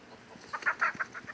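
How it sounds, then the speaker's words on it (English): A chicken clucks in a backyard during a chase, a short burst of several quick, fairly close clucks and squawks over quiet background. "I just chased poultry through my backyard"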